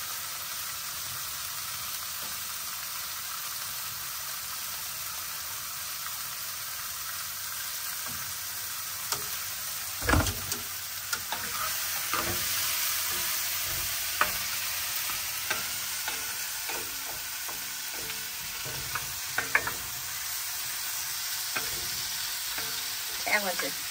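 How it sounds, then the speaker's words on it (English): Grits whisked into a hot pan on a camp stove at a beach campground, with a steady soft sizzle and scattered clinks and scrapes of the whisk, no talking. "I'm just going to whisk it as I put it in there."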